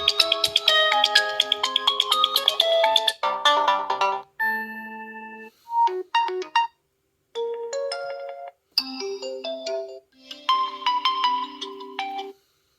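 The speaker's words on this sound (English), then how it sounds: "So that's your ringtone." A Realme 8i smartphone plays a series of different ringtones through its built-in speaker: bright, tonal chimes and melodic beeps in bursts separated by short silences, loud and close.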